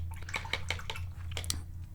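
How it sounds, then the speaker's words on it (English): A watercolor paintbrush swished and rinsed in a water cup makes a quiet run of small splashes and dabbing clinks over a low background hum, with no talking. "I'm going to clean up my brush here."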